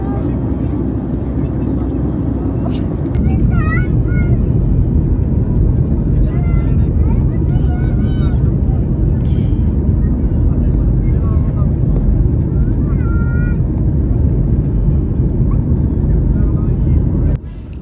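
Airliner landing at the end of a flight from Qatar to Kerala, with a loud, steady roar of engines and rushing air filling the cabin, and occasional voices and chatter over it.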